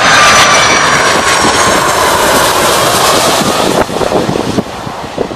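A jet airliner roars low overhead on its final approach to landing over Maho Beach, St. Maarten, loud and sustained throughout, with wind buffeting the microphone and a slight easing toward the end.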